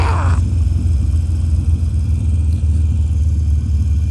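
A motorcycle engine rumbles steadily while riding on the road in Malta, a loud, constant low drone that stays close throughout.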